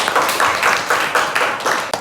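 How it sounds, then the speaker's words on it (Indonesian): Classroom applause for a student: a small group claps in a brisk, uneven rhythm, close and fairly loud, for about two seconds. "Oke, berikan aplaus buat Jose."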